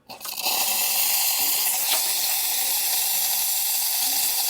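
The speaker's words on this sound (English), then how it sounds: "I'm just going to run the steam once so that you can see that that's working as well." Espresso machine steam wand, freshly serviced, hissing continuously and loudly into a milk jug after a brief opening burst, with a steady broadband roar that holds to the end.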